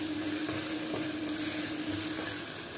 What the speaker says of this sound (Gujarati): થોડી હિંગ ઉમેર્યા પછી આપણે આદુ અને મરચાંની પેસ્ટ ઉમેરીશું।